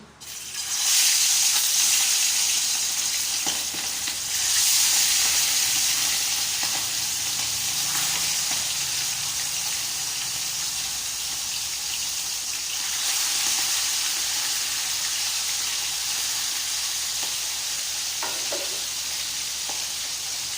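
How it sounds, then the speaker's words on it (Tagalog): Tambakol fish pieces dropped into hot cooking oil, a loud steady sizzle and crackle of frying that starts abruptly and holds for the full stretch with occasional surges, no voices. "ilalagay na po natin yung ating piprituhin, yung ating tambakol"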